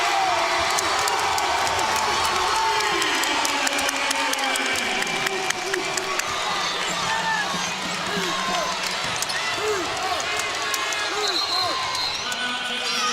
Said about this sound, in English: That gets the crowd making some noise